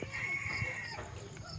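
A large rooster crows in a rural yard near coconut trees, one sustained call over steady background noise, moderately near.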